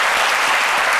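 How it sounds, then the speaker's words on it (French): A brief burst of studio audience applause on a French-language midday television show, many hands clapping in a dense, loud, continuous wash for about a second. "Bravo, et encore des applaudissements pour toi."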